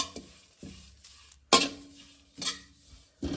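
Sambar powder spices dry-roasting in a pan, with a few sharp stirring scrapes and clatters against the metal at irregular intervals and quieter rustling between them.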